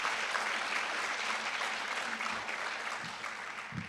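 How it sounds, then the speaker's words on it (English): Steady, fairly distant applause from an audience at an early college scholars celebration for Greene County schools, a continuous wash of clapping with a faint voice near the end. "Yeah, you can clap for that."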